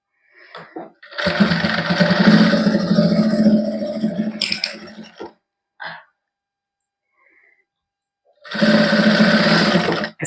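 Sewing machine stitching a kameez neckline runs in a long buzzing burst, stops, gives a short tap, then resumes briefly at the end; close and loud with no talk.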